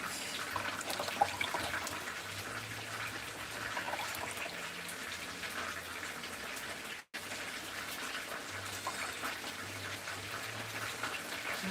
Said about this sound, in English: Rinsing out the coconut.